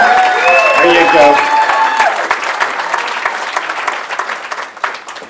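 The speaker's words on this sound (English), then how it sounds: "Let's have the Chris Tobin cheering section over here" A crowd at a high school sports hall of fame banquet bursts into loud applause, with whoops and cheers at the start, and the steady clapping gradually thins and fades over several seconds.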